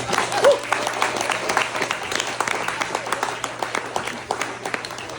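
An audience applauds the coaches at a gym's eight-year anniversary party, a burst of clapping that starts strong and thins into scattered claps, with some voices under it.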